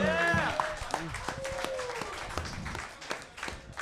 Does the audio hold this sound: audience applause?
yes